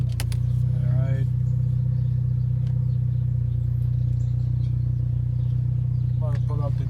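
A Honda Accord Sport 1.5T fitted with a K&N intake idles in a driveway, a steady low engine rumble running throughout, with a few brief voices and small clicks over it.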